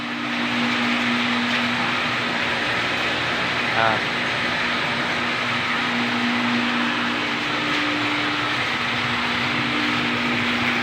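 A 2-horsepower water refilling station machine with a large FRP tank runs with a steady, droning mechanical hum and a constant broadband whir, unchanging for the whole stretch.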